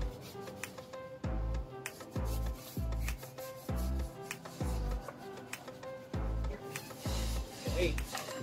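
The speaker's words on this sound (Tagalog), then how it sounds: "Kailangan nyo siyang kuskusin ng mabuti" Firm scrubbing of a car's surface during hand car wash detailing, a series of rhythmic rubbing strokes, each lasting about a second, close and fairly loud, with a few short pauses between them.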